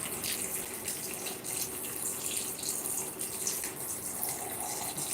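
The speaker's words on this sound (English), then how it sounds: "So now we're going to add water" Water pours steadily into a cooking pot for wheat rice with chicken cubes, a continuous splashing stream, close by and fairly loud, with no voices.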